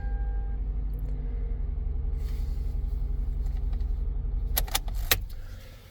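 A Toyota engine, just started on a newly programmed transponder key, idles with a steady low rumble close by; a few sharp key jangles break in near the end, and no one speaks.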